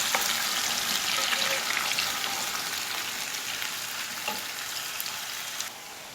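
Steady, loud sizzling of chopped onions sautéing in a pan over high heat, with a few faint clicks of stirring and no voices.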